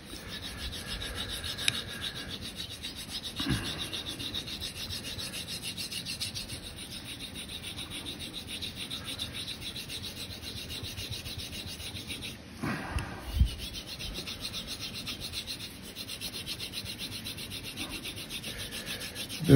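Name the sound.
straight razor being honed on Belgian Blue whetstone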